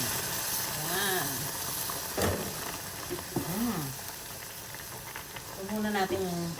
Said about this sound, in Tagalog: So, lalagyan na natin siya na mainit na tubig.